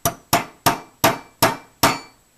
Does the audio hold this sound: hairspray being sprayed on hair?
no